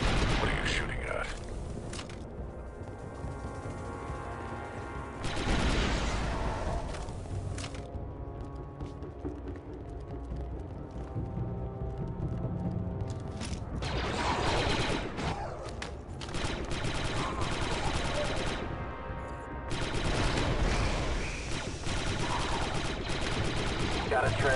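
Sustained blaster and weapon fire in Star Wars: Republic Commando, repeated bursts in waves across a long combat stretch with mechanical clatter, under soldiers' radio chatter and background score.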